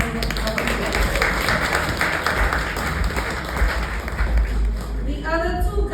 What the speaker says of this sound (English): So give yourselves a hand of applause.